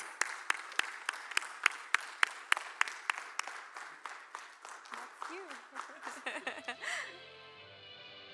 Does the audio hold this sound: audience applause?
yes